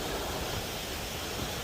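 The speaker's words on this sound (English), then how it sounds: "I don't know if you guys can hear the water," Water flows outdoors in a soft, steady rushing wash, faint and somewhat distant, mixed with a little wind and with no voices.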